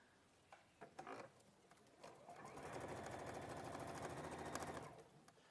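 A sewing machine stitches a seam with a fast, steady mechanical whirring run of about three seconds, after a few quiet clicks and handling noises, close and moderately soft.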